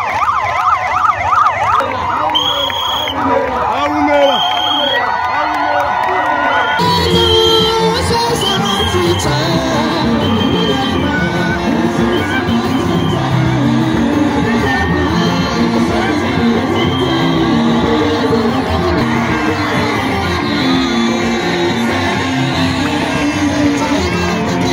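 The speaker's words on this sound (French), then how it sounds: "l'évêque Élie Charles Lebandji fait son entrée sous un tonnerre d'applaudissements et de cris de joie." A large congregation at a ministerial convention in Okitodimba greets an arriving bishop with loud, continuous cheering, shrill ululating cries and applause. It starts over a musical passage and then swells into a dense roar of voices.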